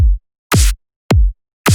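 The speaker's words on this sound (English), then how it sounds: "you might want to start with a kick and snare" A drum machine alternates a deep booming kick and a bright, crisp snare, each hit short with silence between, in a slow steady pattern.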